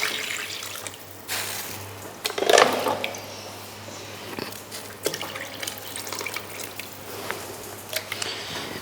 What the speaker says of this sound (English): Top up that with water until it's fully covered.